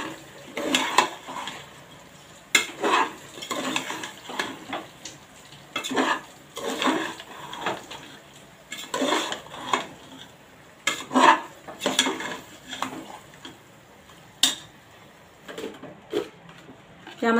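Chicken biryani being stirred and mixed in a pressure cooker, a metal spoon scraping and clanking against the pot in repeated bursts, close and fairly loud, with faint kitchen background.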